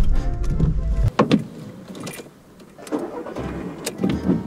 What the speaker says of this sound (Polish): nie da się odpalić samochodu inaczej